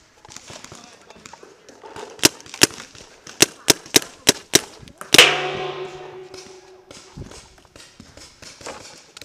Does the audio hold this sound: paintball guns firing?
yes